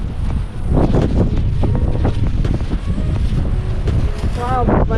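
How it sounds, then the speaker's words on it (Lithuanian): Strong wind at a beach on Mykonos blasts across the microphone in loud, sustained buffeting rumbles, while people talk over it. "Vėjas nežmoniškas."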